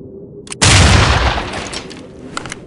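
A flashbang grenade detonates in the tactical shooter SWAT 4: a single loud, sudden broadband blast after a brief click, followed by a decaying ring and scattered echoes.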